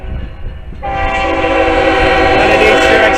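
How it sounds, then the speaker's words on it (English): Train horn sounding in downtown Danville, Illinois, with two trains passing in opposite directions; a loud sustained blast sets in after a rumbling start and holds to the end. "We got 2 trains coming up."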